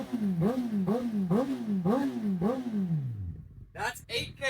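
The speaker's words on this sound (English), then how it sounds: "the exhaust is now installed. It sounds way more aggressive, way less like a sewing machine or a little bubble machine" A Honda CB1000R motorcycle with a newly fitted aftermarket exhaust revs repeatedly, five rising and falling throttle blips in a steady rhythm, loud and close, then the engine drops to idle before a sharp burst of crackles.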